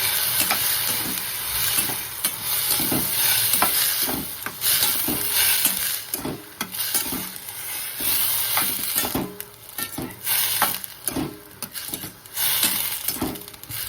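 Chillies simmering in buttermilk in a pan, stirred with a steady soft sizzle and hiss, broken by repeated scraping and clinking strokes of a spoon against the pot, close and fairly loud with no talking.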